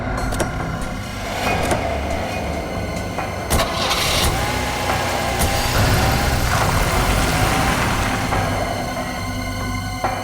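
A car engine cranks and catches, then runs at a loud, rough idle with occasional revs, accompanied by clicks and knocks from doors or the car body close by.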